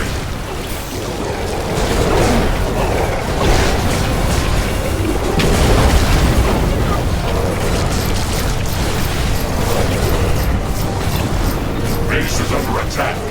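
Buildings blowing up under attack in The Riftbreaker, a sci-fi base-defense game: a dense, continuous rumble of booms and bursts with mechanical clatter, loud throughout, under a synthetic announcer voice.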